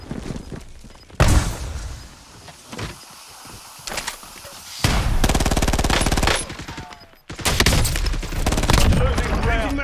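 Gunfire in the video game Warzone: loud, close bursts of automatic fire come and go, with sustained stretches of rapid shots and quieter gaps.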